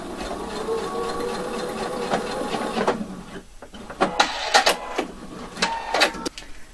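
Home sewing machine stitching a back seam on fabric for a folded slit, a steady mechanical whir running continuously for about three seconds, then stopping, followed by several short bursts of stitching and handling noise.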